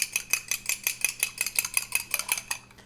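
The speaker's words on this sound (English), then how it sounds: "we're going to whisk up 1 egg" An egg being whisked for Swedish meatballs, a utensil clicking rapidly against a bowl in a steady rhythm of about five strokes per second, close and clear, slowing at the end.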